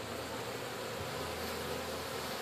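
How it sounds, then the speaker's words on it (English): Honeybees at a hive fitted with a bottom cover and reduced entrance during a formic acid treatment, a dense continuous buzzing roar heard up close and steady throughout. "Get a close-up of the bees."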